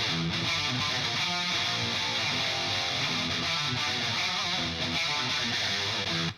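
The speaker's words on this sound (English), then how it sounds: "Which no doubt sounds like a high gain sound still." Loud, high-gain distorted electric guitar with both amp channels blended, tuned for a New Wave of British Heavy Metal mix, chugging steadily and densely for several seconds before cutting off.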